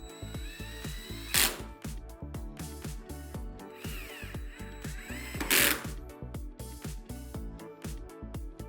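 Screws being driven into a Blum REVEGO pocket, rapid ratcheting power-driver whirr pulsing steadily throughout, with two brief louder bursts as screws seat, close and fairly quiet with no talk.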